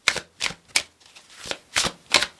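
A tarot card deck is shuffled in six quick, crisp riffling bursts, evenly spaced and close up, with no voices.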